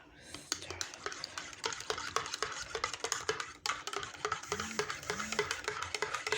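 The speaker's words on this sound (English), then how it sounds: "So now stir it." A spoon stirring instant coffee in a cup, making rapid, regular clinks and scrapes against the sides, close and crisp, with brief faint voice sounds partway through.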